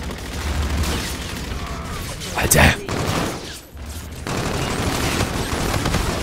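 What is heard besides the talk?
explosions and gunfire in a video game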